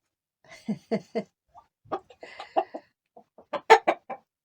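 Two roosters cluck and make short throaty calls in scattered bursts, fairly close, with quiet gaps between them.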